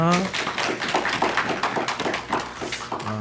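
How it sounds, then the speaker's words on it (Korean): A church congregation claps to welcome a visiting preacher during a Sunday worship service, giving a few seconds of brisk, steady clapping from many hands while voices carry over it. "우리 박수로 환영하겠습니다"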